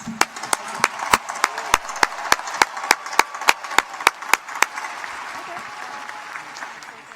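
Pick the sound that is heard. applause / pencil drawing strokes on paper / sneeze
applause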